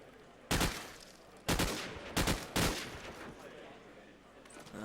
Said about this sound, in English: but Fantasy with that SMG is going to have the higher rates of fire